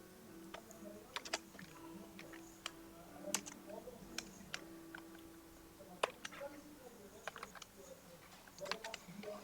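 Typing on a computer keyboard while writing Python code, with quiet irregular key clicks in scattered bursts and a faint background hum.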